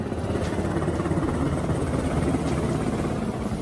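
Continuous rhythmic thumping rotor chop of a helicopter, steady and fairly loud, with a broad whooshing engine roar.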